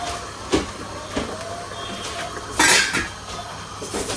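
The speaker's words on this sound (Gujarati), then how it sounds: "બસ હવે આને પાછું લીડ બંધ કરી દેવાનું." A metal lid clanks shut on a pot of steaming vegetable muthiya in a home kitchen, with a few sharp clatters and one louder, longer rattle as it settles into place.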